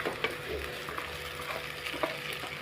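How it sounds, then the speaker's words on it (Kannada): Cooked rice being stir-fried for vegetable fried rice, a steady sizzle with scraping and stirring against the pan, close and even, a few small knocks of the utensil. "ಆ ಅನ್ನವನ್ನು ಇದಕ್ಕೇ ಹಾಕೋತಾ ಇದ್ದೀನಿ"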